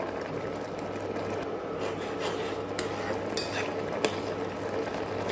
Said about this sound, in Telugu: షుగర్ వేసిన వెంటనే కూడా బాగా తిప్పుతూ ఉండండి ఇది డ్రై అయ్యే వరకు